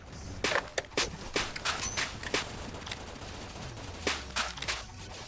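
Sniper rifle and other gunfire in a video game shooter, a string of sharp single shots at irregular intervals over a low rumbling game backdrop, with no talking.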